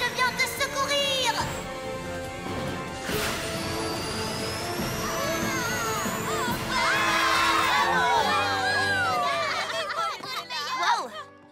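In a My Little Pony cartoon dubbed in French, a crowd cheers Rainbow Dash: excited children's shouts and cheers swell and fall around bright character voices and background music.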